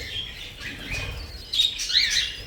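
Fallow cockatiel chicks give thin, high squeaky calls that rise and repeat over steady background hiss, growing louder toward the end.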